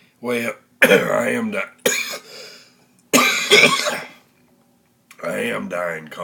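A person coughing and clearing their throat in several rough, harsh bursts, separated by short pauses, loud and close.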